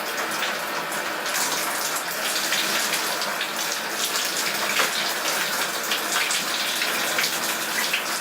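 Water running steadily from a tap or shower while caffeinated shampoo is rinsed out of hair, a continuous close gushing splash with no talking.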